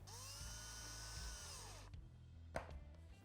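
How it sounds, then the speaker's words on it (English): A power drill bores holes one at a time through Honda Talon 4-seater upper door panels for snap fasteners, whirring steadily up close for about two seconds, then stopping, with small handling clicks and a sharp tap afterward. "And you just want to drill these one at a time."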